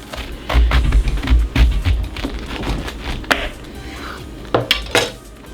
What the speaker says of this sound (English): Now I'm going to go ahead and cut this in half, and recommend cut it on the flat end